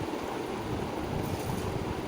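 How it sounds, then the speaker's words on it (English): Water coming to a boil in a pot for basmati rice biryani, a steady dense bubbling rush that holds even and fairly close throughout without any talking. "now the water starts to boil"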